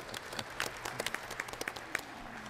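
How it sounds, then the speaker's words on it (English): Faint, distant applause from an audience at a parish council inauguration, steady clapping with a few sharper individual claps standing out, no voices over it. "yeah, you can applaud."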